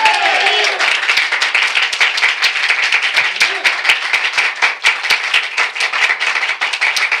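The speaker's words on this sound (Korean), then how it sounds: "우리 하나님께 박수로 영광 돌리겠습니다" A church congregation clapping during a Sunday worship service, loud, close and continuous, with a brief voice early on under the applause.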